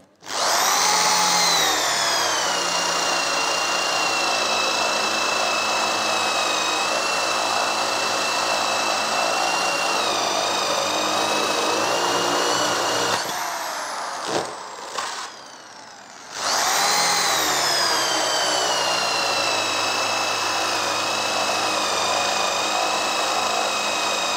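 A compact Braxter BT60-5 power drill bores a 28 mm hole, giving a loud, steady high-pitched motor whine for about thirteen seconds. It briefly stops and drops off, then spins back up to full speed and runs on.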